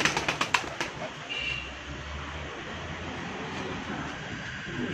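Ferozpuri pigeons flap and flutter in a quick burst of wingbeats at the start, followed by a low, steady rumbling background.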